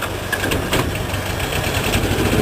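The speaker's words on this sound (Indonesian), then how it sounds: "Kita nyalakan, tekan atas ini agak lama" A portable generator inside a monitoring vehicle running with a steady mid-pitched engine drone and faint knocking vibration, close and loud, with no one speaking over it.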